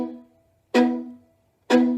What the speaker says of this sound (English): A quick, easy way to play these chords is what I like to call a chunk.